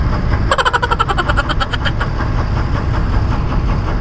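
Car engine idling in heavy midday traffic, a steady close low rumble with a brief rattling burst of clicks early on, constant throughout.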